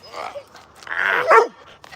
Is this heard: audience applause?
no